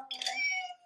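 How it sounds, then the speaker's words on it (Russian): A cat gives a single short meow, fairly faint and brief, with a small knock right at the end. "как кошка, да, мяучит"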